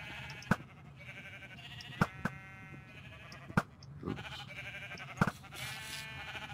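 Sheep bleat repeatedly in a blocky sandbox video game, several short sharp calls spaced irregularly over a steady low background hum, fairly close and clear with no talking.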